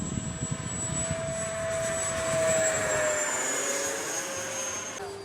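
An E-flite Viper RC jet flies overhead before landing, its electric ducted-fan whine steady and fairly loud with a slowly falling pitch as it passes and swells, then eases off.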